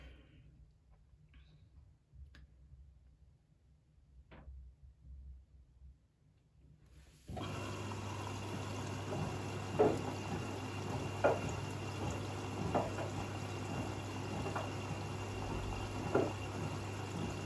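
A Siemens washing machine begins filling with water for a pillow wash, quiet at first, then a sudden steady rush of inflowing water with faint periodic clicks and knocks from the drum.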